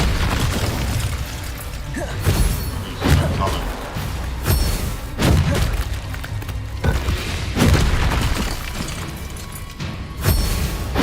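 Spell blasts from Incendio and Flipendo cast in the Hogwarts Legacy video game, a run of booming thuds and crashing bursts repeating every second or two over a busy battle bed, with some voices mixed in.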